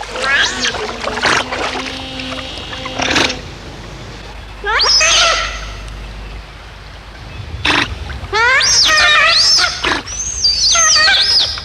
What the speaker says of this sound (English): Giant otters are extremely vocal. In fact, they are the world's noisiest otter